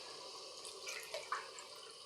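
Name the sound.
water being added while cooking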